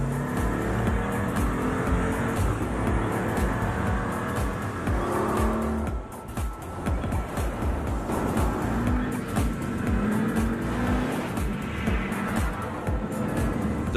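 A Pagani Huayra on a fast race track, its engine loud and sustained as it drives at speed, with the roar rising and falling slightly and a brief dip midway.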